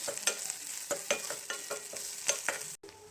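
Mustard seeds, shallots and dried chillies fry in coconut oil while being stirred, a bright sizzle broken by regular scraping strokes of the spoon about twice a second, ending with a sudden brief cutoff.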